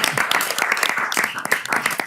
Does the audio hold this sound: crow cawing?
no